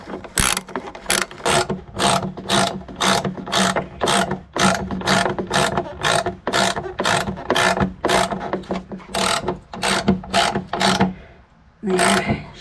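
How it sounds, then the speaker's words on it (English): A hand ratchet tightens the starter bolt on a Yamaha Rhino 660, giving about twenty close, crisp clicking strokes in a steady back-and-forth rhythm, then a short pause and one last burst. "Tighten that bolt in."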